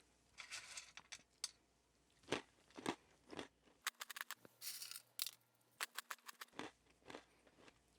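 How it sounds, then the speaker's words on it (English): Someone bites and chews a crunchy teriyaki snack stick from a U.S. Close Combat Assault Ration. Sharp, close crunches come in irregular bursts, and quieter pauses fall between the bites. "I'm going to take a bite of this and eat some of these with it"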